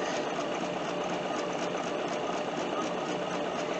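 A Bernina sewing machine stitches through fabric with a 37D foot and dual feed engaged, a steady, fast mechanical whir with a regular needle rhythm, close and alone.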